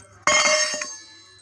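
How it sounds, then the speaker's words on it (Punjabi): A single bright metallic clink as a brass bowl is set down, ringing briefly before fading. "ਇਹ ਹੈ ਪਿੱਤਲ ਦੇ ਬਾਟੇ ਚਲੋ ਰੱਖ ਦੇ ਤਿੰਨੇ"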